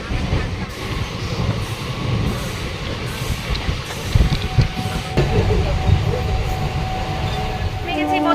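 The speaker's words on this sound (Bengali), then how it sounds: "ট্রেন ছেড়ে দিয়েছে 9টা 4-এ" Inside a moving passenger train, a constant rumble and rattle of carriages fills the space, with occasional clanks and bumps, while people talk in the background.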